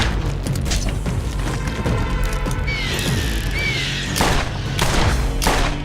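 Pistol shots in Borderlands, fired by Mordecai with a Tediore weapon, crack out as a few sharp, loud reports spaced apart near the end over a busy game soundscape.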